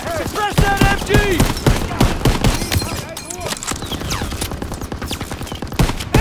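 Machine gun fire in the World War II shooter Call of Duty: WWII, rapid bursts of gunshots cracking repeatedly under shouted soldier voices, loud and close with a steady rhythm.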